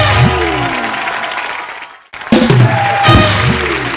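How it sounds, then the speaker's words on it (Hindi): Loud applause from an audience fills the space, briefly dropping out before resuming strongly, with music tones running underneath. "जोरदार तालियां"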